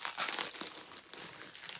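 Crinkly plastic parcel packaging being worked open by hand, a close, continuous stream of crackles and small tearing rustles without pause.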